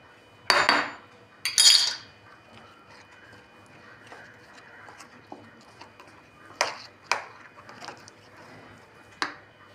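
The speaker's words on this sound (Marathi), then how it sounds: "गूळ मिक्स करता करताच त्यात वेलची पावडर पण टाकून घेत आहे." A spoon clinks and scrapes in a vessel while jaggery is mixed with cardamom powder for a summer drink base; a couple of loud metallic knocks early, then sparse lighter taps and scrapes, close and otherwise quiet.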